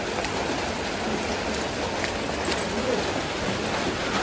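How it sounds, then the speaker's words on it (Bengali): Steady rain falls outdoors around a cowshed, a dense, even hiss that stays constant and fairly close, with no talk over it. "এই বৃষ্টি"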